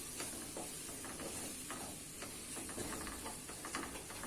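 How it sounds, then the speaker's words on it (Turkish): Potatoes and carrots sautéing in a pan for red lentil soup: a quiet, steady sizzle and hiss with faint stirring scrapes, and no talking. "1-2 dakikada patates ve havucu kavuruyoruz"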